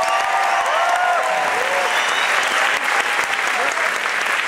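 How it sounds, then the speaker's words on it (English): An audience gives a loud, dense round of applause for a comedy act, Steve Aruni and Henry the Groover, at an evening show; steady crowd clapping fills the whole stretch, close and continuous. "Give a big round of applause, please, for Steve Aruni and Henry the Groover."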